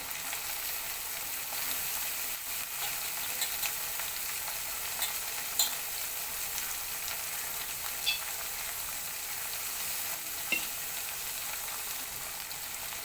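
Soaked chana dal frying in oil for a brinjal curry, a steady close hissing sizzle with soft crackles and occasional stirring clinks over the whole stretch, no voices.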